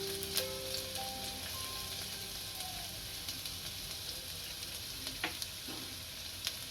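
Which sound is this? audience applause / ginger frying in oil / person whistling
ginger frying in oil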